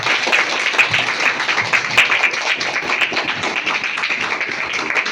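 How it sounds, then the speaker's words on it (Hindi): Schoolchildren at MSDM Smart School clap loudly for a speaker, a dense, continuous burst of close applause that holds strong throughout. "तालियां जोरदार होती है।"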